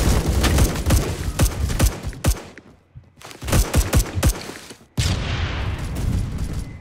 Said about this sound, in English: I can shoot them with this revolver